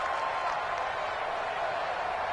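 Steady roar of a home stadium crowd at an NFL playoff football game between Oakland and the Patriots, a dense continuous wash of noise with no distinct voices standing out.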